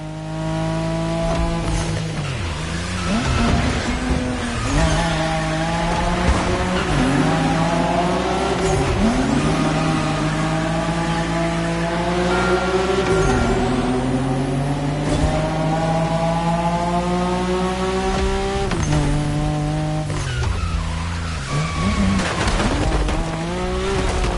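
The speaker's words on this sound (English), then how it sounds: "Don't you forget, it's all about drifting" Continuous loud engine roar from a car drifting in The Crew Motorfest on PS5, revs rising and falling in repeated sweeps with gear shifts, with tire squeal mixed in throughout.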